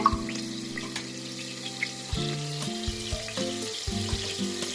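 Oil and a little ghee sizzle in a pan as a garlic rice base, a soft steady hiss under a tuneful musical backdrop, with a few faint clicks.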